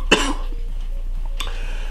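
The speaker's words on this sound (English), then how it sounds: "I'm really sick, so that's why I've been coughing a lot." A sick person coughs once, sharp and close, then a second, softer cough follows about a second later in an otherwise quiet room.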